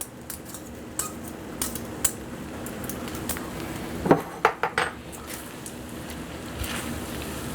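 Metal tongs clinking and scraping against a pan while tossing cacio e pepe pasta with pecorino cheese, a series of light clicks and clatters, with a few sharper knocks near the middle.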